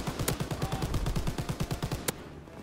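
A video game turret fires a steady rapid stream of evenly spaced shots for about two seconds, then one sharper crack, all at moderate loudness with no talking.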